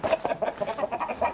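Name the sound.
roosters crowing and clucking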